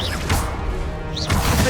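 Two bursts of a Confringo blast spell in Hogwarts Legacy, each a whooshing cast followed by a fiery crackling impact, loud and close, the second arriving about a second after the first.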